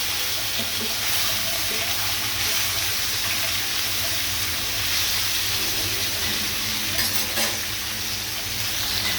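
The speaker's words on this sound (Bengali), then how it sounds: "মাছটা আরও কিছুক্ষণ ভেজে নিতে হবে।" Koi fish frying in a pan, a loud, dense, continuous sizzle and crackle close up, with occasional stirring noises and no talk.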